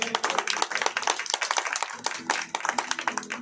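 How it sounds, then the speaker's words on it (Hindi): A church congregation claps loudly for the Lord in a vigorous, uneven burst of many hands, near and continuous, with brief dips before the clapping surges again. "तो मेरे को एक बार जोरदार ताली बजाएं प्रभु के लिए।"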